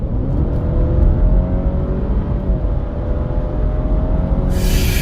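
A 2022 Alfa Romeo Giulia Sprint Q4 accelerates hard from about 52, its engine droning loud and steady with a deep rumble and rising whir heard from inside the cabin, no talk.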